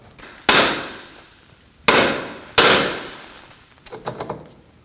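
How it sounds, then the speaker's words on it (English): Hammer blows on the steering knuckle of a 2003-2006 Subaru Baja, near the front outer tie rod: three sharp, loud metallic strikes with short ringing decay, followed by a few softer lighter taps, with no talking. "Now we're going to strike the knuckle right here near the tie rod."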